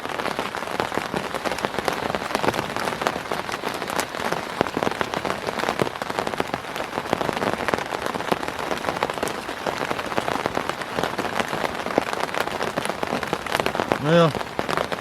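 Rain drums steadily on a tent in the woods, a dense pattering hiss close overhead that holds at a constant level, with a brief tonal sound near the end.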